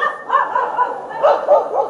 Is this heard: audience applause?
no